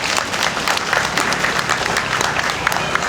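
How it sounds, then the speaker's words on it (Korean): Audience applause of encouragement at a national memorial ceremony for COVID vaccine victims, steady dense clapping from a large crowd filling the whole stretch at an even level. "여러분 따뜻한 격려의 박수 부탁드리겠습니다"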